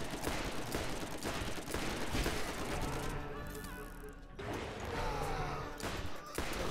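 Revolver fire in Borderlands, repeated loud cracking shots amid a busy game mix of impacts and clatter, with a brief quieter lull midway.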